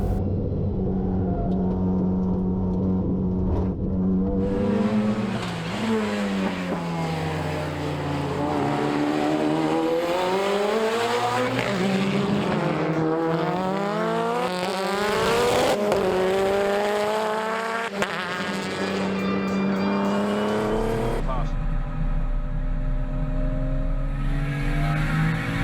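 Superlap race cars lapping Hampton Downs circuit in 2023: a loud, close engine climbs and drops in pitch through repeated gear changes and keeps roaring without a break.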